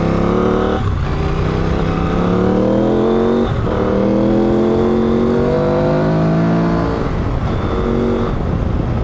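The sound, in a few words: KTM 790 Adventure R motorcycle accelerating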